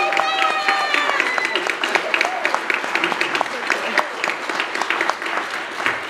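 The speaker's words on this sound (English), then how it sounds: "A nice round of applause for Mr." An audience applauds Paul Petersen, the Donna Reed Show actor, at a September 2017 celebrity Q&A panel. A voice trails off at the start, then lively crowd clapping carries through, with sharp individual claps close by.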